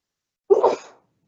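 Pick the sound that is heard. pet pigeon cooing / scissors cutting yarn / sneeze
sneeze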